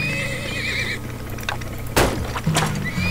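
A horse neighs in the strategy video game Turmoil, a clear, close whinny followed by hoof clip-clops and thuds against a game background, with no talk.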